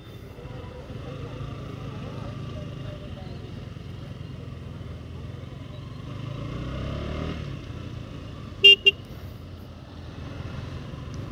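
A KTM RC200 sport motorcycle drones steadily while being ridden, its low engine hum continuous and moderately quiet, with a brief sharp click near the end.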